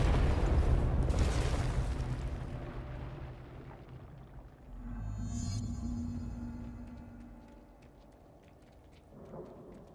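A loud explosion in the video game Control opens with a heavy, deep boom that rolls into a long rumbling decay, followed by softer swelling rumbles and a faint metallic ring.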